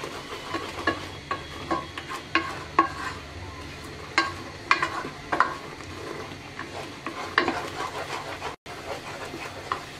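Milk being stirred continuously in a pan as it thickens into khoya, a soft bubbling sizzle with regular scraping taps of the spoon against the pan at a close, moderate level.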